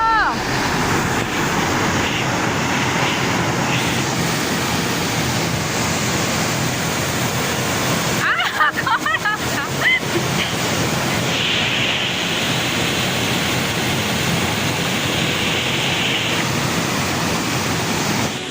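Sitakund waterfall in Mayurbhanj, a loud continuous roar of rushing, crashing water heard up close and filling the whole stretch, with a brief disturbance partway through.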